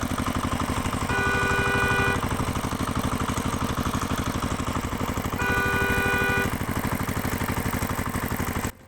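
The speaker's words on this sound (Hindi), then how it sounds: "गांव में पहली बार ट्रैक्टर आया है।" A tractor engine runs in a village with a fast, even chugging pulse throughout, steady and close, with brief tonal whistles layered over it.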